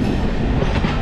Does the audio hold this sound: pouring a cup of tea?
no